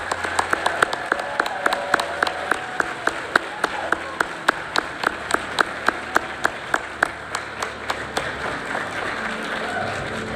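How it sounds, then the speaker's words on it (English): Audience applause for nominees at a regional educators awards and scholarship ceremony, a steady room-filling clatter of many hands with sharp individual claps standing out, sustained for the whole stretch. "Let's give all these nominees a round of applause."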